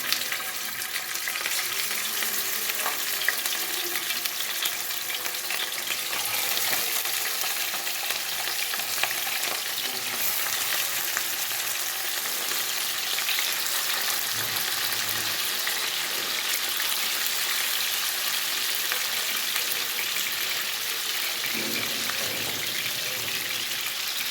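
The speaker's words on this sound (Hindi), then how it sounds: "तो तेल गरम हो गया, अब शामिल करूँगी ये फ़िश।" Pieces of marinated fish, half-frying in hot oil for a fish korma, give a steady, close sizzle and crackle that runs unbroken for the whole stretch, with no talking over it.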